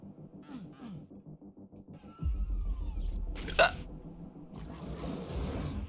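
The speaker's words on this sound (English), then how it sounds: "Uh-oh, we're in the hiccup arc." Small involuntary hiccups pop out in a quiet rhythm, a few short sharp gulps near the microphone, with a louder background hum and a brief bright burst partway through.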